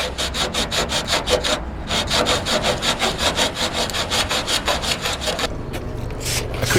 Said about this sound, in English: Glue a piece of emery strip onto the initial form and go to town.